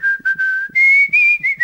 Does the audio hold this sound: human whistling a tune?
yes